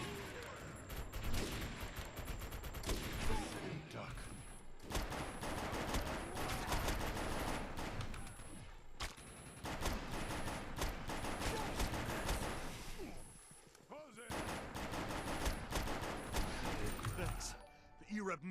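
Rapid, sustained bursts of automatic gunfire with occasional louder crashes fill an online shooter match in the Defiance MMO, continuing almost without pause while a player talks over the action.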